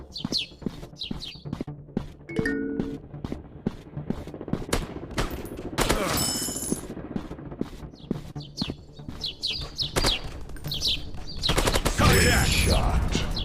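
Gunfire in a first-person shooter video game: sharp cracks and rapid bursts of shots scattered throughout, with louder dense volleys near the middle and end, over a quieter background with chirp-like effects.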